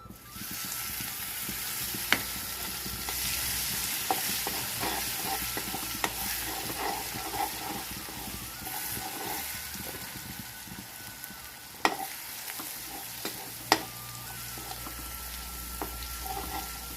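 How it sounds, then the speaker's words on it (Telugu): Ginger garlic paste fries in hot oil with a steady, even sizzle, punctuated by occasional sharp clinks and scrapes of stirring. "అల్లం చిల్లిపాయ పేస్ట్ పచ్చి వాసన పోయేటప్పుడు చక్కగా నూనె పైకి వచ్చేదాకా చక్కగా వేయించుకుంటే బాగుంటుంది."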